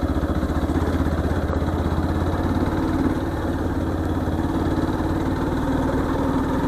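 A Yamaha FZ-X 150cc motorcycle engine runs steadily and close at a low, even throb during mild off-road riding, with no speech over it.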